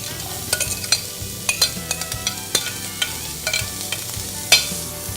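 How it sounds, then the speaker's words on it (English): Vegetables hit a pan with only a little oil left and fry over a steady, close sizzle, while a utensil stirs and scrapes with repeated sharp clatters throughout. "Now, there's very little oil left. We don't need to drain any of the oil out. And we're going to put in our vegetables."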